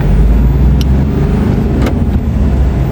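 Steady, loud engine and road rumble from inside a Mahindra Bolero Neo N10 on the move, a continuous low drone with a couple of brief higher clicks and no talk.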